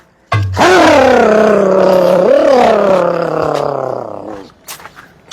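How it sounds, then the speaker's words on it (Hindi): An old phatphatiya scooter engine revs loudly up close for about four seconds, a rough buzzing drone that swells once in the middle before dropping off and cutting out. "ये है हमारी भैया फटफटिया स्कूटर।"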